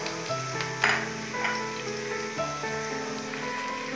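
Sliced onions sizzling in hot oil as they brown, with bay leaves dropped into the pan; a steady close frying hiss with a few louder crackles and small stirring clatters.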